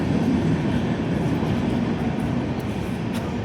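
Train arriving at a large station, a loud, steady rolling rumble of wheels and carriages throughout, with no talk.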